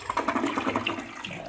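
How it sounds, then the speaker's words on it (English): A hotel bathroom toilet flushes, with a brief, close gush of swirling water that tapers off after a second or so, heard alone without talk. "Give it a flush."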